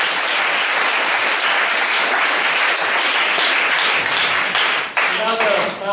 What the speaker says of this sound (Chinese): 这边先掌声欢迎一下我们